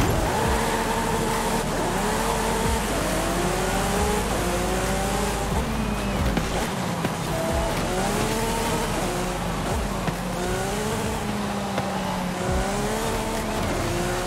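A 2018 Lamborghini Aventador SVJ in the video game Forza Horizon 5, racing a circuit at full throttle: a loud engine repeatedly climbing through the revs, dropping with each gearshift and rising again, with brief tire squeals.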